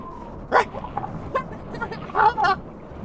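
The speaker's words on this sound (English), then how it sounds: "you hear some barking coming around you." Several short dog barks and yips burst out at intervals, moderately close, with a playful, excited rhythm.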